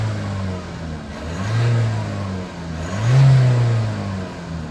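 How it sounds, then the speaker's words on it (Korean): A diesel car with over 100,000 km on it, stationary, engine running with two slow revs rising and falling from idle, a loud, close, smooth mechanical drone without any voices. "그럼 제가 한번 그 멈춰 있는 상태에서 엔진을 몇 번 돌려 보겠습니다."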